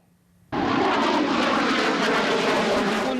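Jet engine of an IDF Ching-kuo fighter, reportedly leaking fuel and trailing flames during a solo aerobatic display, bursts in suddenly as a loud, close, steady roar that holds without a break.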